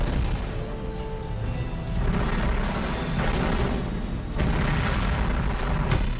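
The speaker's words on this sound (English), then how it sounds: "Watch out for those long-range mortars" Long-range mortar fire in the video game Line of Contact rumbles as a dense, continuous barrage of heavy booms and crashing blasts, loud and sustained throughout.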